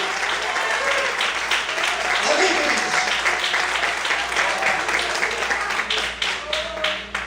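A church congregation applauds during a morning service, dense, steady clapping filling the room from start to finish, with a preacher's voice briefly speaking over it.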